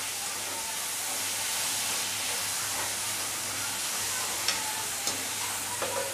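Chennai-style shark fish puttu frying and being stirred in a pan, a dense continuous sizzle close by with a few light scrapes of the spoon near the end.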